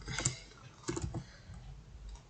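Light, close clicks of typing on a computer keyboard, a few quick keystrokes in small clusters over a faint background hum.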